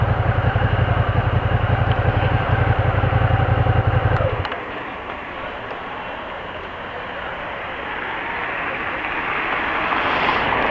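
A Suzuki Gladius 650 motorcycle engine roars loud and close for about four seconds, then drops away into a steadier, quieter rush of wind and road noise.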